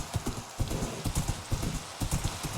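A horse's hooves clip-clop in the video game Minecraft, a quick steady run of loud, close hoofbeats.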